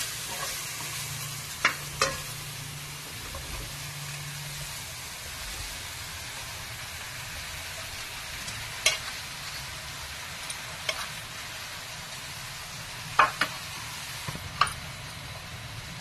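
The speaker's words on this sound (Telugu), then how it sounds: "ఇప్పుడు స్టఫ్ చేసి పెట్టుకున్న కాకరకాయలని ఇందులో వేసేసుకోవాలండి" Stuffed bitter gourds fry in a pan with a steady, soft sizzle and hiss, broken by a few sharp utensil taps and scrapes, close and quiet without talk.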